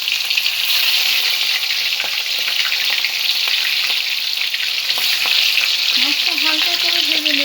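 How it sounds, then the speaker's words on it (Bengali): Prawns frying lightly in mustard oil in a kadai, a loud bright continuous sizzle with stirring clatter, a brief voice surfacing near the end. "মাছটা হালকা করে ভেজে নেব। চিংড়ি মাছ খুব বেশি ভাজা হয় না।"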